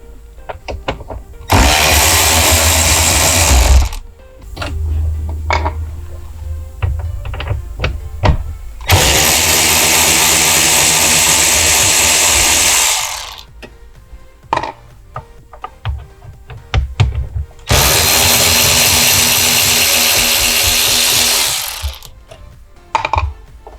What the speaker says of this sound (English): there are 4 10mm bolts underneath here, which we're just going to remove